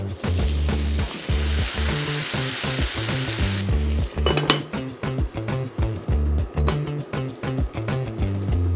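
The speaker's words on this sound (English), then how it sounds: "Fry under the lid for 7 minutes. Turn to the other side." Broccoli frying in a covered pan, a loud close sizzle that gives way to rapid rhythmic clinks and scrapes of utensils against the pan, with no voices.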